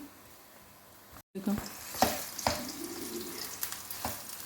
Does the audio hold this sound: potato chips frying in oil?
yes